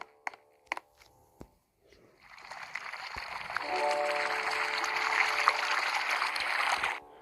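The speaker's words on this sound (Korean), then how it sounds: "오, 물소리 진짜 좋다, 이거" Water rushes in a Roblox video game. A few sharp clicks come first, then a steady, hissing flow of water rises and holds before cutting off.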